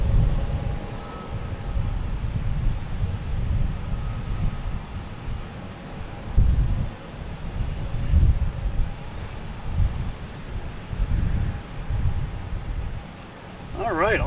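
A Cape Air airplane bound for Rockland at Boston Logan Airport gives off a steady low engine rumble with wind buffeting, and voices murmur faintly alongside.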